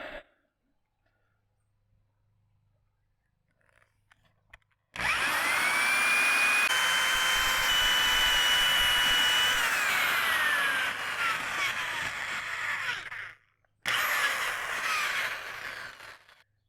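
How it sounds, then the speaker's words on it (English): A power drill with a large hole-boring bit cuts through a wooden door for a deadbolt, starting after a quiet stretch and running loud and steady with its whine shifting under load, pausing briefly, then spinning up again. "When you're almost through, you gotta drill from the other side so it doesn't break out."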